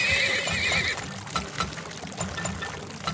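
In the oil-drilling strategy game Turmoil, a horse gives a clear, loud whinny, followed by light clip-clop and pouring-water effects.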